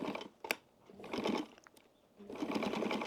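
A roughly 70-year-old Pfaff sewing machine stitching a wallet pocket, running in two close, steady bursts of rapid mechanical whirring with a short pause between.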